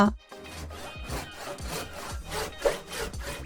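Rhythmic rasping strokes of a hand saw biting into wood, about eight close passes at a brisk steady pace, with a soft tonal backdrop.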